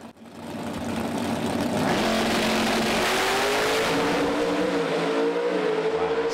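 Pro stock drag race cars launch hard off the line at a PDRA drag racing event, with roaring high-revving engines building to a sustained, loud, near scream that holds steady to the end.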